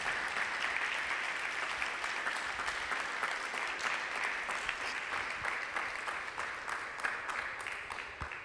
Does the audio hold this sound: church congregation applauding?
yes